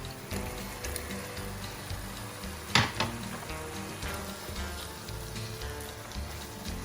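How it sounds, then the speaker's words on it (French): Cooked pot-au-feu beef pieces tipped into a frying pan sizzle in a steady hiss and crackle, with a brief louder splash as the meat lands, close and moderately loud. "Je prends maintenant mes morceaux de viande de pot-au-feu et je les verse tout simplement dans la"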